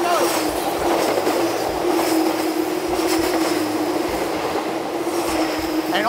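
A Silverliner 5 commuter train rushes past close by in emergency braking, a loud sustained roar of wheels and rail with a steady squealing tone and rhythmic clatter.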